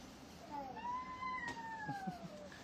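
A cat meows indoors, one long drawn-out rising and falling call, fairly faint, followed by a few soft small sounds, with no speech over it.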